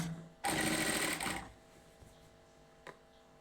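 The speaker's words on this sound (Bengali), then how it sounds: "দেখুন কিভাবে সেলাই করে নিচ্ছি।" A sewing machine stitches a round-neck, front-button nighty in one loud, close, steady run of about a second, then falls quiet apart from a couple of faint clicks.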